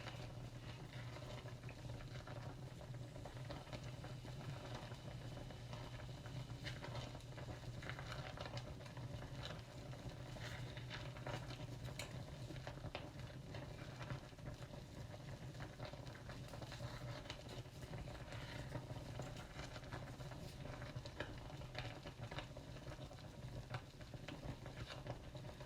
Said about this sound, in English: the sound of a boiling pot